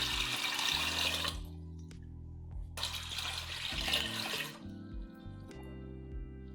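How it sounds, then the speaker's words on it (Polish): Water gushes from a tap into a pot in two bursts with a short pause between, then stops, leaving a low background hum. "Do garnka wlej 2 litry wody."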